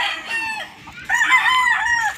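Rooster crowing up close at a chicken farm, one loud drawn-out cock-a-doodle-doo, with other chickens clucking around it.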